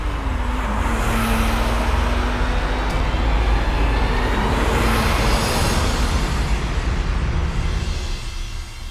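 A car driven along a road, with steady engine drone and broad road and tyre noise continuing loudly throughout, no voices.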